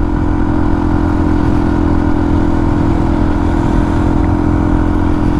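Loud, constant drone of a Suzuki DR-Z400 dirt bike engine at steady high revs on a highway, running a 15/44 tooth sprocket, heavy low rumble with wind noise, close up and uninterrupted.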